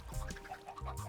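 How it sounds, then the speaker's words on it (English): Chickens in the video game Minecraft give a few close, clear clucks in quick succession, with short pauses between them. "We got chickens in here now."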